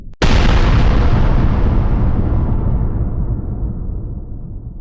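A single loud AI-generated explosion bursts in sharply after a brief pause, then rolls into a long, heavy rumbling decay that fades slowly.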